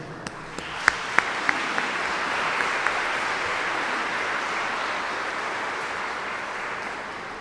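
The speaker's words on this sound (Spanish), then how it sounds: "Y un aplauso fuerte para San José." Loud, sustained applause from a church audience honoring Saint Joseph during a Lenten gathering, a dense steady clapping that fills the space with a few sharper claps standing out near the start.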